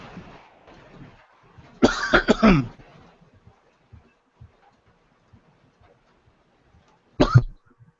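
A man with a dry throat coughs in a workshop: a harsh cluster of close coughs, a long pause, then one more short cough, with no talking.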